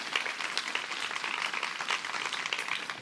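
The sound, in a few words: audience applause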